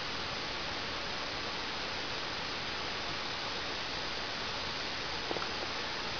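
A steady, even hiss fills the air from two closely spaced copper wires of a spark gap, constant and fairly loud with no spark crack yet.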